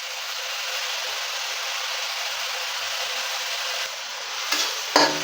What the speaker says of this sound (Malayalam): എന്നിട്ട് ഇളക്കി കൊടുക്കണം